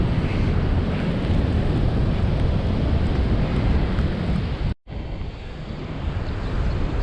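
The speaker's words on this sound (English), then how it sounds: "All the spray from the waterfall gets funneled" The flooded Augrabies waterfall on the Orange River thunders in a dense, unbroken roar, mixed with wind buffeting the microphone. The sound cuts out for a moment near the end, then returns just as loud.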